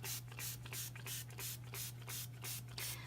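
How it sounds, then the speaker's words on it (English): A spray bottle mists water over a watercolor painting in a quick, regular series of about a dozen soft hissing squirts, close and fairly quiet, over a faint steady hum. "use my spray bottle, try and get it to move."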